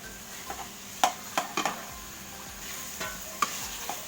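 Chicken liver, heart and gizzard sautéed in a pan: a quiet sizzle with a few sharp scraping clinks of the utensil, close, no talking.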